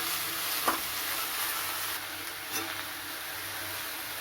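Ground ginger paste with five-spice seeds and radhuni being sautéed with salt in a pan, a soft, steady sizzle with a couple of faint scraping stirs.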